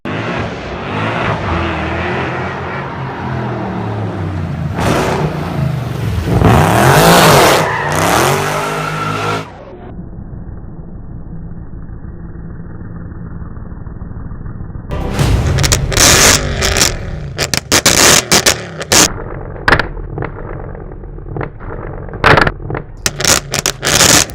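A car fitted with an extremely loud aftermarket exhaust system roars through hard revs and booming pops close by. A quieter idling stretch in the middle gives way to sharp, repeated throttle blips with crackling bursts.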